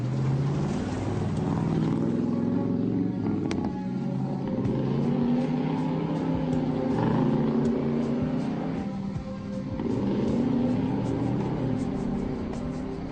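A car engine runs loud and close, droning and revving unevenly under a noisy, rough rumble throughout, with no voices heard.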